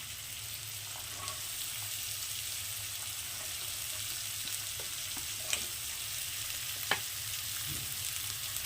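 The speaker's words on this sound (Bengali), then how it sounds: "পেঁয়াজটা ভাজবো না আমি কিন্তু হালকা জাস্ট নাড়াচাড়া করে নিয়েছি এবার দিয়ে দিচ্ছি আমি গাজর আর বিনসটা" Carrots and beans stirred together with lightly tossed onions in a pan for egg chicken fried rice: a steady low sizzle with occasional soft scrapes and stirring knocks, fairly quiet and continuous, no voices.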